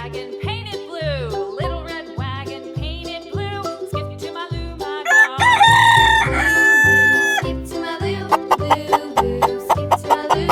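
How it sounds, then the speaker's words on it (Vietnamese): A rooster crows a loud, strained cock-a-doodle-doo midway through a cheerful children's song, with a few clucks near it, and the music's beat continues underneath and afterward. "Con gà."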